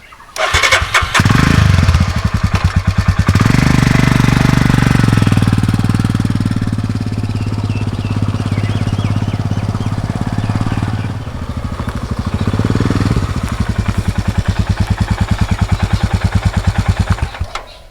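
A Royal Enfield Himalayan BS6 motorcycle cranks, catches and settles into a loud, steady single-cylinder idle thump, close up, with the revs dipping briefly before picking up again.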